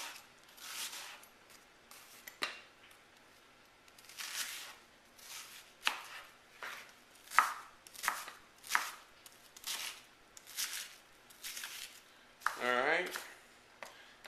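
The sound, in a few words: chopping squash and onions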